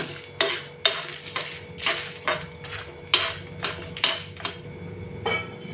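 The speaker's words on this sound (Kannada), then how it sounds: "ನಾನು ಒಣ ಮೆಣಸಿಕಾಯಿನ ಹಾಕೋತಾ ಇದ್ದೀನಿ ಇದನ್ನು ಸ್ವಲ್ಪ ಫ್ರೈ ಮಾಡ್ತೀನಿ" Dry red chillies fried in a pan for Mangalore cucumber sambar, heard as a row of sharp spoon knocks and scrapes against the pan about every half second over a low sizzle, close up with no speech.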